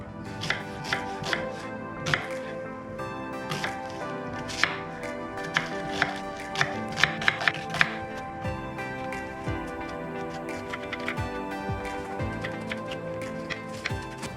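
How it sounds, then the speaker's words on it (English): A knife chops peppers and other ingredients on a cutting board: clear, close, irregular knocks in quick bursts, some louder strikes, with a few pauses in between and no talking. "Let's chop them up."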